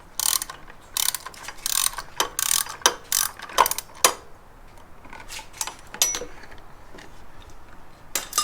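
An oil filter removal tool ratcheting on a Harley-Davidson Dyna in a garage, with a run of sharp, uneven metallic clicks in quick bursts and pauses, close and fairly clear.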